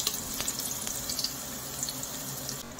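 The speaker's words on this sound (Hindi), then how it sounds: "अब हम अपनी प्याज को फ्राई होने देंगे गोल्डन ब्राउन होने तक" Sliced onion frying in hot oil gives off a steady, dense sizzle and crackle that keeps going without pause.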